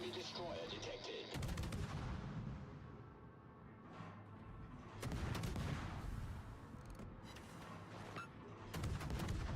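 Ship guns firing in World of Warships, a naval battle game: several loud booming salvos with rolling, crackling blasts and long decaying rumbles, spaced a few seconds apart.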